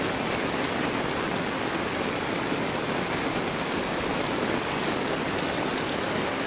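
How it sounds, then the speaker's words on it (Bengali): Heavy rain pours steadily in Thanchi, Bandarban, a dense, even hiss of drops striking surfaces with no break and no voices. "ভারী বৃষ্টি হচ্ছে, ভারী বৃষ্টি।"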